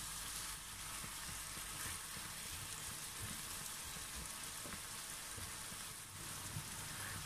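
Vegetables for chicken chow mein sizzle steadily in a hot pan, a continuous crackling hiss like rain that stays even throughout with no voices.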